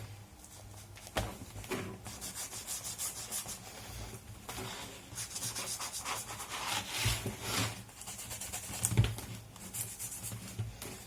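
Coffee ink rubbed onto the edges of an art journal page with soft, close, scratchy strokes that come in short irregular bursts, some firmer than others.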